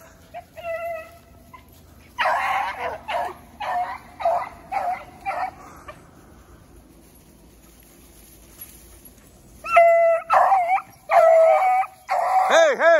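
Hunting dogs at an offseason training bootcamp bay and howl while trailing a rabbit, a pack of drawn-out yelping cries in bursts, quieter stretches between, and a louder chorus of howls near the end.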